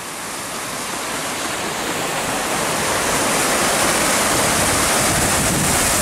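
Saut du Laïre waterfall pours as a steady, loud roar of rushing water, a dense broadband wash that holds unbroken and swells slightly over the few seconds, with no voices.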